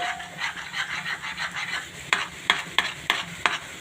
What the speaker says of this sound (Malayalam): മുട്ട ഒഴിച്ച് നല്ല ചൂടാകുമ്പോൾ ഒന്നെന്ത് ചെയ്യുക, ഇങ്ങനെ ഇളക്കി കൊടുക്കുക